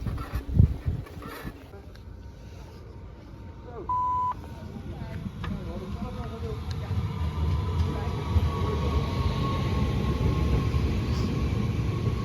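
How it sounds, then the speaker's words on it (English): A train passes at a station in Voorhout with a steady rumbling roar that swells toward the end, a short electronic beep partway through and a faint squeal of rails. "It's actually not my train, it's heading in another direction, but this is where I hop on the train."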